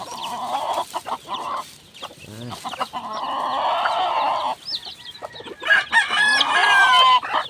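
Chickens cluck steadily up close, with a rooster crowing in the mix and busy fowl chatter throughout.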